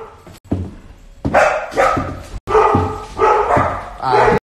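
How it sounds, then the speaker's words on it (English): Dogs at a mansion bark in loud, close, repeated bursts, mixing deep woofs with higher yips, while people talk between them. "Dogs are going ape."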